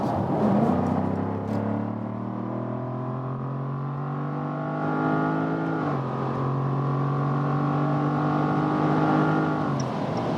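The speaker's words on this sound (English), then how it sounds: "one more acceleration I do have for you, and we start at about 80 kilometers an hour, and now." A 2020 Jaguar F-Type P450 R-Dynamic V8 convertible accelerating hard from about 80 km/h, a loud steady engine drone rising through the gears with a brief shift dip midway, heard from inside the car.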